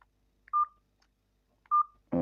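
Two short touch-tone beeps spaced about a second apart ring out clearly from a phone being dialed to call someone back, followed by a burst of louder electronic tone at the end.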